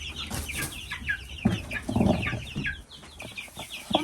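Young chicks cluck and cheep in a busy, overlapping chorus, with occasional wing flaps, while being moved from a brooder into a coop during a thunderstorm.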